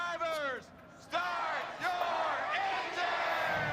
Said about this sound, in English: Getting the crowd revved up for this race here today.